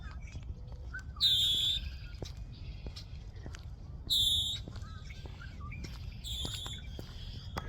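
Outdoor birdsong with a few clear, high whistled calls repeating every few seconds over faint background rustle and occasional soft steps.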